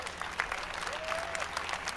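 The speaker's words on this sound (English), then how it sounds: "Let's give them all a round of applause." Applause from an audience at the EA E3 2018 press conference, a steady patter of clapping hands filling the whole moment, moderately loud with no talk over it.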